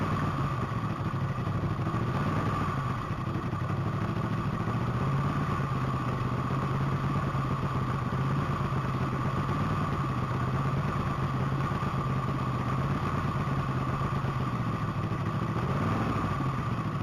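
A motorcycle at the Texas Mile top speed racing event produces a steady, dense engine roar that holds without break throughout, with faint clatter in the open-air surroundings.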